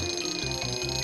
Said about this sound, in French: On va mettre un réveil.